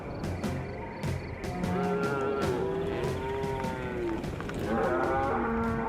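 Grass-fed cattle on the sprawling Chico Basin Ranch, several overlapping moos and bellows, loud and close, with sharp clicking noises scattered through the background.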